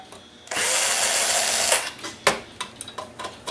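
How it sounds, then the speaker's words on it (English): A power drill backs spring-loaded screws out of a Samsung DLP TV's DMD assembly: a loud steady whir for over a second, then short bursts and clicks as the screws come loose, close up. "We're going to go ahead and take these four spring-loaded screws out"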